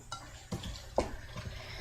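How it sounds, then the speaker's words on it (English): A spoon stirs tea into a bowl of chopped apples, giving a few soft scrapes and light clinks spaced out over a couple of seconds, close by and fairly quiet. "Stir it in."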